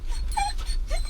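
A dog gives two short, high whimpers over a constant low rumble of background noise, close by.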